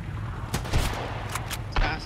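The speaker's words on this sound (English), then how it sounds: "they've got machine guns or something" Enemy machine gun fire in the Sunkenland survival game at the Ashbond outpost, a few short bursts of sharp cracks over a steady low rumble, mid-distance and fairly quiet.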